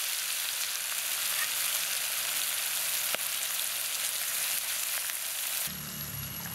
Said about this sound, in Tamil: மிச்சம் இருக்கிற மீன் இதே மாதிரி ஃப்ரை பண்ணி எடுத்துக்கலாம்.